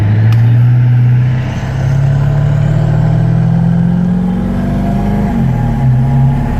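A 1997 Ford F-250 heavy-duty gas truck engine accelerating steadily while driving, a loud, close drone rising in pitch through the gears, with a brief dip and a shift near the end.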